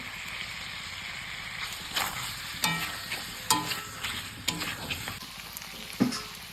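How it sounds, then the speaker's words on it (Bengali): Ground cumin, coriander and Kashmiri chilli powder with bay leaf sautéing in a pan, a low sizzle under a steady hum, punctuated by several sharp spoon scrapes and knocks. "এবার আমি এটা ভালো করে কষিয়ে নেব"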